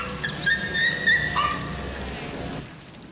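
A dog in a film scene, likely barking, gives short yips and whimpering calls over a steady background murmur, fairly close and clear, before the sound cuts off abruptly.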